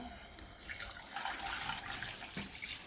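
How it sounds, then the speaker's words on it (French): Veal broth is poured through a strainer, a soft continuous splashing trickle of liquid that is close but quiet, with a faint clink near the end. "on va filtrer le bouillon"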